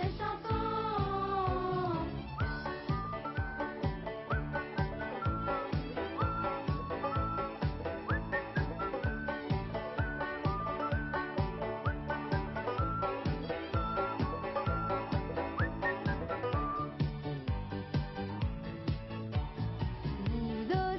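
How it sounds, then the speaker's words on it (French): A bright, melodic whistled tune from a song, carried over a rhythmic musical backing, steady and loud throughout. "tous avec moi, mettez-vous à siffler."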